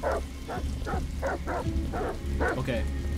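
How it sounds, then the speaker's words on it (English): Dogs in the video game Detroit: Become Human bark repeatedly in a fairly steady rhythm, loud and close over a low rumbling background. "And then there's dogs. I know there's dogs."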